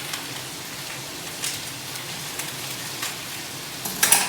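Uncooked rice pours steadily into a pot for a black bean and charred corn burrito bowl, a continuous close grainy hiss with a few small clicks near the end.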